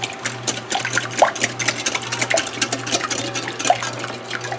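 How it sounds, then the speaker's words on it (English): Wet cake batter of buttermilk and vanilla being whisked for a ding dong cake, a steady busy scraping and sloshing of whisk against bowl running throughout at close range, with no talk. "we just whisk this up"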